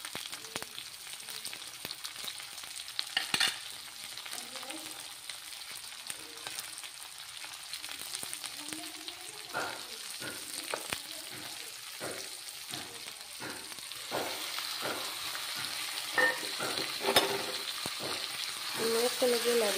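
Green chillies and onions frying in hot oil give a soft, steady sizzle with scattered crackles and occasional stirring clinks, fairly quiet and close.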